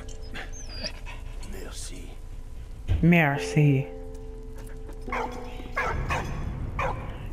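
A dog in the video game Valiant Hearts: The Great War whimpers and yips in short bursts, close and fairly loud, with game dialogue and a voice speaking between the dog sounds.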